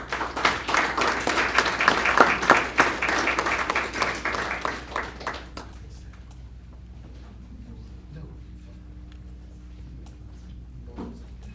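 Audience applause at a graduation ceremony for reentry program graduates, dense clapping for about five seconds that then stops abruptly, leaving quiet room tone with faint stray sounds.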